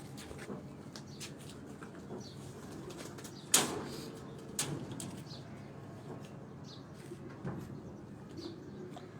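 Pigeons on a rooftop in Sheikhupura, kept for a pigeon-flying tournament, give soft, low coos over a steady outdoor hum, with one sharp knock and a few faint flutters and taps. No one speaks.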